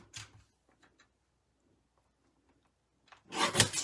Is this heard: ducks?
no